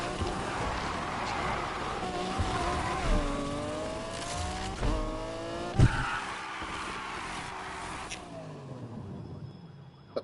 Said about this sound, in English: That's just the e-brake.